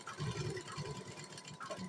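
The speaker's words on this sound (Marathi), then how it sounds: "आता खालची साईडून आपण एक शिलाई मारून घेऊया." A sewing machine stitches blouse fabric up close, a fast steady mechanical chatter with a faint underlying hum, low in level and running alone without talk for a couple of seconds.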